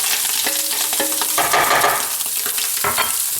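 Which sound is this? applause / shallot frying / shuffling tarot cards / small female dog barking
shallot frying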